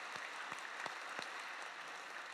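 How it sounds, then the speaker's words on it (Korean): A church congregation applauds after a choir's hymn at a Sunday service, a faint, even patter of many hands with a few sharper individual claps standing out. "귀한 찬양에 우리 다시 한번 감사의 박수 한번 드리겠습니다."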